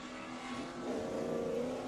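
A GTL-class race car accelerating during a morning autocross run at Laguna Seca, its engine a steady, rising drone at moderate distance, with no talk.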